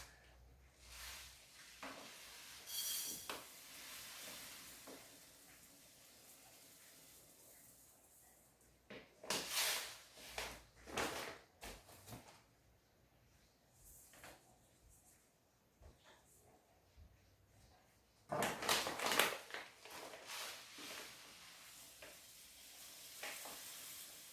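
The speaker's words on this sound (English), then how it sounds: "So we're going to go ahead and start pouring this into the bowl here." Material is poured into a fish bowl set up for Triops, making a gritty rushing sound in several separate bursts. The loudest bursts come around the middle and near the end, with quiet handling noises between them.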